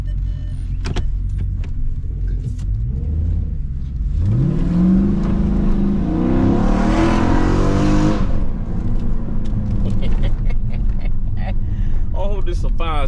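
A Dodge Charger Scat Pack revs hard while driving, the engine note climbing in a rising sweep that peaks loudly mid-clip then settles, with road noise and a voice talking over it inside the cabin.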